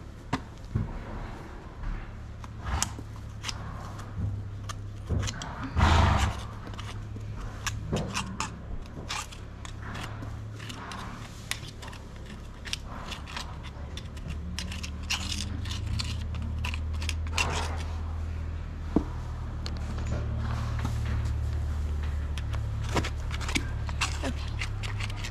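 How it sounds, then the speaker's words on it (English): Hoof pick scraping and tapping at a horse's hooves, a run of short close scratches and knocks over a steady low hum, with one louder thump early on. "we are gonna do some hoof picking"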